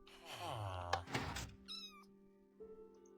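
Meowing of a cat in the Minecraft video game, a few clear mews with a short higher squeak after, close and fairly loud with no talk over it.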